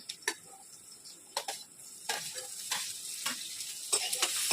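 Green chillies and garlic frying in a pan for dal fry give a light sizzle that builds louder, broken by sharp clicks and scrapes of a utensil against the pan, close and otherwise quiet.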